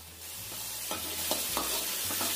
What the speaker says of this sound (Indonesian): Kita tumis sampai cium bau enak